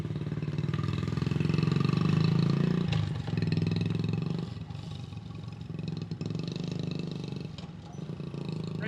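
A 1971 Honda CT70 minibike engine runs steadily and loudly close by, in need of carburetor adjustment, with a brief dip near the three-second mark and a slightly uneven, wavering idle afterward.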